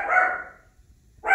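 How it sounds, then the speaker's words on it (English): A dog barks twice, close by, with a short pause between the two sharp barks. "My dog's deciding to bark while I'm doing this."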